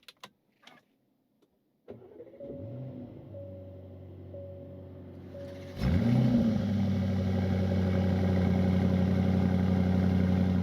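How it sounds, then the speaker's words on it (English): A 2026 Aston Martin DB12 S twin-turbo V8 cranks over with a whirring starter, then catches with a loud flare and settles into a steady, rumbling idle, heard close by with no talking. "we had the twin-turbo V8 roaring to life"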